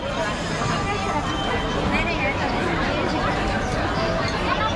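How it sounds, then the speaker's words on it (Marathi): A thick babble of many voices at a crowded stop on a Mumbai to Nashik ride, steady and close, with overlapping chatter and general hubbub throughout. "एकदम जबरदस्त गर्दी आहे."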